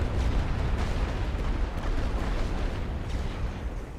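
Continuous rumbling booms and blasts of artillery in the video game The Great War: Western Front roll together into a dense, loud wall of explosion noise, with no clear gaps between detonations.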